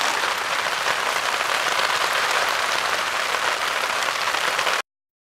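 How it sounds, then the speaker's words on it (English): Rain turning to hail drums on a camp tarp while backpacking in the Weminuche Wilderness, a dense, steady, close patter filling the whole clip with no voices before it cuts off abruptly. "it's a rainstorm this time, but it was just turned from rain to hail, and it's pretty nice to have a tarp"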